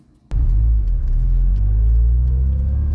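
A Honda S2000 engine while driving kicks in abruptly after brief quiet, then holds a loud, close, deep droning rumble with a slowly rising pitch.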